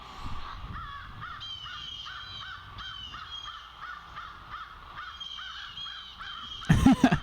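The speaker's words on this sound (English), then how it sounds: "that's just other birds around." Crows calling outdoors among trees, a steady series of repeated harsh caws at a moderate distance, alone with no talk, ending in a brief loud burst of closer clatter.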